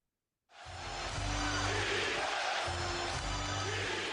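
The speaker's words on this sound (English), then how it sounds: "And the crowd are on their feet." A basketball arena crowd roars during a Knicks versus Heat game, the noise swelling suddenly from silence into a loud, sustained wash of cheering that holds steady to the end.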